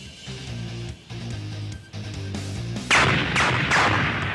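Gunfire in an animated Dragon Ball fan battle: a loud burst of shots enters near the end, layered over a busy score with dramatic music and effects throughout.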